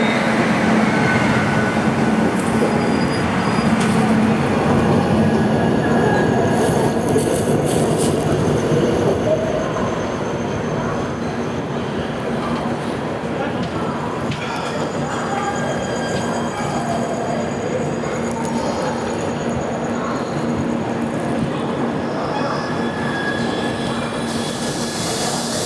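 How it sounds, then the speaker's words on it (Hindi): Rajdhani train sounds at a station platform as the August Kranti Rajdhani Express stands with a WAP 7 electric locomotive: a steady, loud low rumble and hum with distant clanks and station noise, slightly easing partway through. "यहाँ पे प्लेटफॉर्म नंबर 2 पे खड़ी है अगस्त क्रांति राजधानी एक्सप्रेस गाजियाबाद WAP 7 के साथ।"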